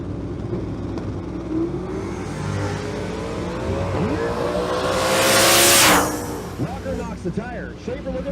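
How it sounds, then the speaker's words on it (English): A third-gen Camaro on a drag strip at a raceway makes its run, the engine revving up and climbing in pitch into a loud roaring pass, heard under continuous track announcer commentary. "Matt Walker in the right lane, the third-gen Camaro"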